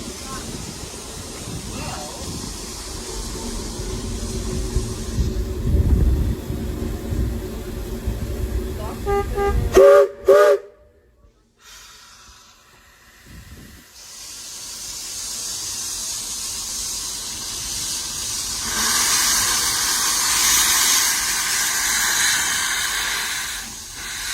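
A train whistle blows near the middle, followed by a long steady hiss of steam, with voices heard in the background beforehand.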